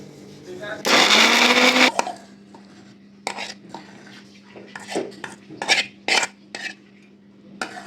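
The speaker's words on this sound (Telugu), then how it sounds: "మిక్సీ పట్టుకుందామండి." An electric mixer grinder whirs loudly for about a second as it grinds boiled onions with rock salt in a home kitchen. Scattered clinks and knocks of the jar and utensils follow.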